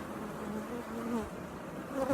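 Honey bees buzz around an open beehive full of brood and honey stores, a continuous close, steady hum with shifting pitches from many insects, no talking.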